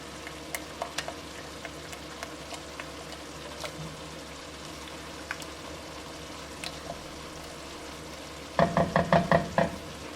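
Baked rotini noodles tossed with Parmesan cheese bring scattered soft scrapes and clinks of mixing over a low cooking hiss, followed near the end by a quick burst of repeated tonal beeps.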